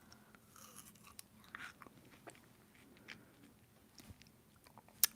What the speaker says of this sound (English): I have to literally chew the side to get it to come up here.